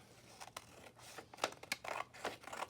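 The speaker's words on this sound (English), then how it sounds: "And some scissors. Trim that off." Quiet scissors snip several times in quick, uneven succession, with faint papery rustling between cuts; no voices.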